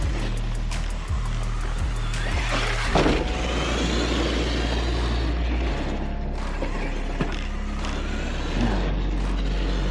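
An Arrma Kraton 8S EXB RC truck running on a track, a loud steady motor whine and rumble with a few quick bursts early on, then a sustained rushing drone, heard close.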